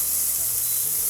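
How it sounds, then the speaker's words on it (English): Chicken fries in a pan over medium heat with a steady, even hiss of sizzling fat, constant and close, with no voices. "It has been cooking for about 3 minutes or 4, and then you turn it so that it cooks on the second side."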